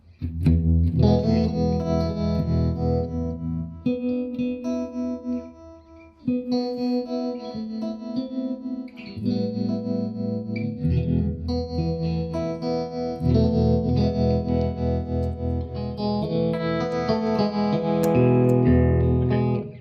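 An electric guitar is played through a Mojo Hand FX RVT tremolo effect, with sustained chords and notes that pulse in volume over about twenty seconds, loud and close with no talking.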